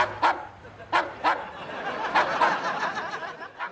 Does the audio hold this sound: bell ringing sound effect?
no